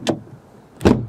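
A car door of a German car shuts twice with a solid, muffled thud, each a brief dull impact separated by a short quiet gap.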